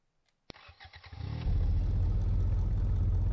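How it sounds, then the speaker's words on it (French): A vehicle engine in the video game After The War cranks with clattering turns, then catches and settles into a loud, steady idle rumble with no one speaking over it. "J'ai démarré le moteur."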